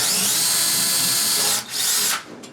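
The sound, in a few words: power drill drilling a hole into a wall for masonry screws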